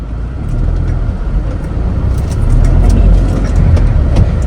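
A car engine pulls away from a stop in first gear, a steady low rumble that builds slightly in the second half, close and fairly loud, with no talking.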